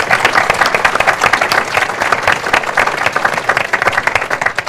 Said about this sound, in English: Let's give a round of applause to this great program.